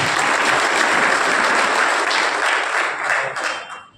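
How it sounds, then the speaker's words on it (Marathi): Sustained applause from an audience at a pensioners' meeting in Nanded, Maharashtra, steady and dense for about three seconds before thinning and tapering off near the end. "त्या सर्वांचे आपण टाळ्या वाजवून आभार मानतो"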